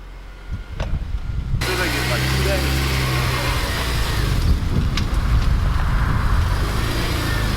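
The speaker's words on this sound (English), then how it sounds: "Cold start sounds aggressive already." A Honda Civic Si fitted with a Skunk2 Alpha header idles after a cold start, a loud, raspy, steady engine drone close by, with someone speaking briefly over it.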